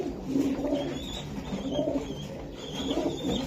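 Pigeons coo in soft, repeated low rolling calls, close by, with a steady background hum and no talking, at a Budapest pigeon farm.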